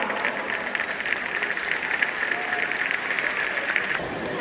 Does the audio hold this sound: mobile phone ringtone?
no